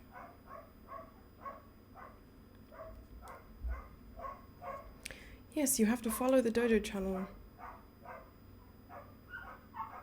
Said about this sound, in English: Sorry for the dogs.